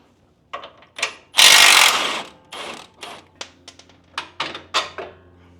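Ratchet clicking in short repeated bursts while unbolting the track bar on a Jeep JK, with a louder rasping scrape partway through, close and alone.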